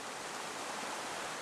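A mountain torrent rushes past a house in Sweden, a steady, dense broadband roar of flowing water, constant and fairly close with no voices.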